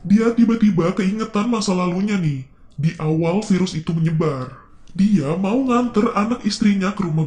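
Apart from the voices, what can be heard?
No distinct noise like a dog, phone or traffic.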